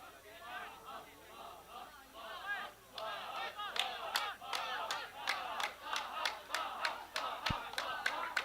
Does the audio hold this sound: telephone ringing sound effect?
no